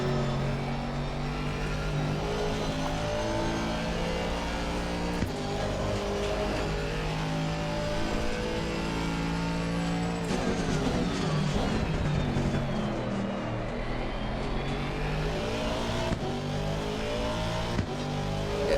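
A race car in Assetto Corsa Competizione accelerates hard around the Kyalami circuit during a hot lap, its engine note rising and dropping through gear shifts and corners. The engine is loud and continuous, with no talk.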